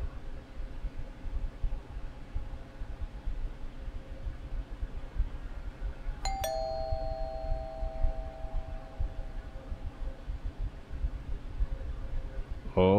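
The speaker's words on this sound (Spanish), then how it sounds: "Están tocando el timbre" A doorbell chime rings once inside a house in the horror game Fears to Fathom: Home Alone, its bright tones ringing briefly over a steady noisy hiss of background sound.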